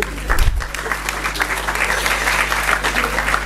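Applause from a crowd at a political party's federal council meeting, steady clapping filling the hall for the whole stretch, with a brief low thump near the start.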